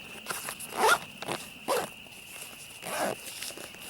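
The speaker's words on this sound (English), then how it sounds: "But the zippers are great. I think they're YKK zippers" A YKK zipper on a Kelty Trekker 65 external frame backpack pocket being pulled open in several short, scratchy bursts, close by and fairly quiet.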